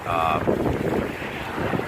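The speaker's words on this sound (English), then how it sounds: "Wind's picked up a lot more too. It's gotten aggressively more windy out." Strong gusty wind ahead of a severe thunderstorm buffets the microphone outdoors under darkening clouds, a loud broadband roar, with a brief tonal whine at the start.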